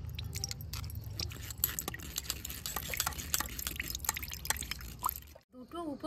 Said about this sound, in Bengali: এইভাবে নেব আর একটা চামচের সাহায্যে এইভাবে নাড়িয়ে নাড়লে খুব সুন্দরভাবে জুসটা বেরিয়ে